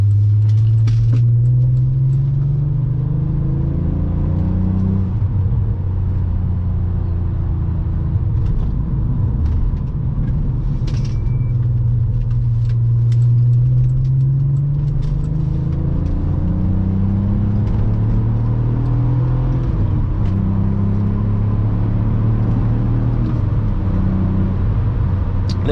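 A Nissan Skyline R32 engine idles and revs repeatedly, its pitch rising and falling in steady waves over about twenty-five seconds, loud and close from inside the car, with no talking.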